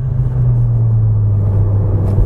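2019 Cupra Ateca 300PS SUV engine pulling hard under acceleration, a loud, steady low drone heard from inside the car with no talking.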